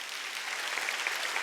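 Faint, brief clapping from a church congregation during a Wednesday worship service, a soft, distant patter of applause lasting just over a second.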